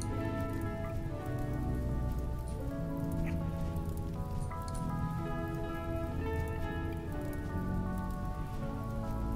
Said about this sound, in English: Thank God it's raining.